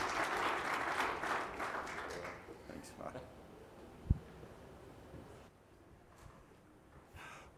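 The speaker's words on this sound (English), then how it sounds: "can we give a warm round of applause" Audience at the AusCERT2023 cybersecurity conference applauding a speaker's welcome, with a loud wash of clapping that fades over several seconds into quieter room sound and a single sharp knock.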